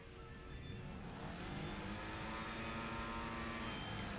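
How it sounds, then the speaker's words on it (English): Car engine in the Wreckfest racing game droning and revving steadily with rising pitch, the lawnmower-like buzz holding loud and continuous for about four seconds with no talk. "my car sounds like a lawnmower"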